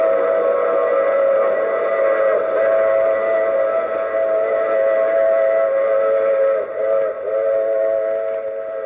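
A passing train with a long, loud steam-style whistle, used as a radio drama sound effect, sustaining a steady wailing tone for several seconds over a rumbling rail background with no speech.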